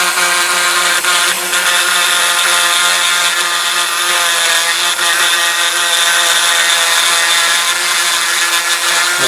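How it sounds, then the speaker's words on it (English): A Dremel rotary tool with a grinding attachment works on a persimmon wood golf club head during restoration, a loud, steady high-pitched whine held throughout with slight variations as it bites into the wood. "you can use a Dremel if you're careful with some sort of grinding attachment."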